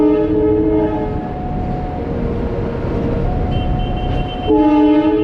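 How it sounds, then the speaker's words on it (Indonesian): Freight train of flat wagons and a few containers passing close by, a continuous loud rumbling roar with sustained horn tones sounding over it, shifting pitch partway through. "Tadi keretanya cuma bawa beberapa kontainer, sisanya gerbong datar semua ini."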